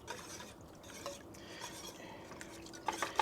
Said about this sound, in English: And we're going to just whisk this,